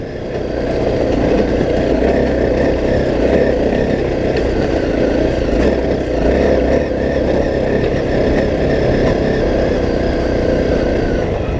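KTM rally motorcycle engine in a Dakar 2017 racing video game, a steady loud engine drone running continuously throughout with no talk.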